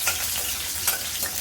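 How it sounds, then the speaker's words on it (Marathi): Bay leaf, whole spices and garlic cloves sizzling in a spoonful of hot oil in a heated kadhai, a steady close hiss and crackle with a brief louder pop near the end. "कढई गरम झाली की मोठा 1 चमचा तेल घालायचं, 1 तेजपत्ता आणि 1 खडे मसाले"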